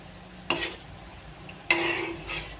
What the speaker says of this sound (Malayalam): പെട്ടെന്ന് മൈദ ആയതുകൊണ്ട് തന്നെ പെട്ടെന്ന് ഇത് അടി പിടിക്കും അപ്പോൾ ഇളക്കി കൊടുക്കണം